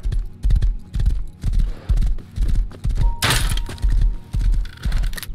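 Horse hooves clip-clopping in the game Rust, a steady rhythmic run of heavy thuds at a trotting pace, loud and close, with a brief crunching impact partway through.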